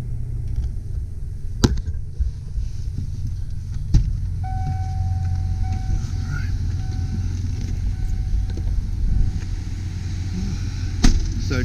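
A 1998 Ford E450 Gulf Stream 30 ft motorhome with 60,000 miles idles at a steady, close low rumble, with a few sharp knocks and clicks over the engine drone.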